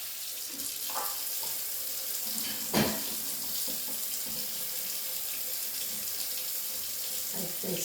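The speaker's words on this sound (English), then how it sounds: "Get some hot water going." A kitchen tap runs hot water steadily, splashing into a sink with a constant rushing hiss and a few clinks of dishes.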